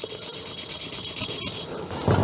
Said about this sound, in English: you can clearly hear the difference in sound when you start to rotate it and when the grain do its job and it cuts the surface